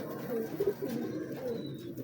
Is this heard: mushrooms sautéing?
no